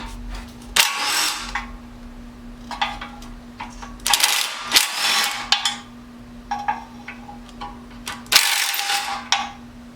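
Mechanical ratcheting and metallic clicks from hand tools taking apart the rear brake parts of a Honda Civic, coming in repeated bursts close to the microphone over a steady low hum.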